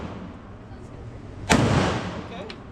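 Single sharp gunshot, likely from an AR-15 or pistol, cracking loudly mid-clip and ringing out briefly, with speech heard faintly around it.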